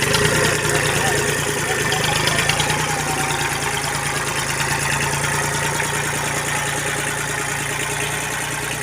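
A Kubota L2000 small tractor drives a rotary tiller in sixth gear, its diesel engine droning loud and constant with a steady knocking rumble, while someone speaks over it.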